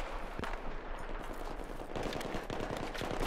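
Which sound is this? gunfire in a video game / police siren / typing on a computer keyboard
gunfire in a video game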